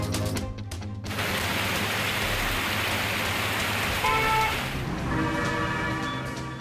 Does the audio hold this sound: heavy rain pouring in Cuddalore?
yes